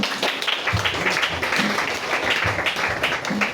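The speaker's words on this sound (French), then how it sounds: "Sous vos acclamations." A church congregation applauds in a steady burst of clapping that fills the room, dense and continuous, with some voices mixed in.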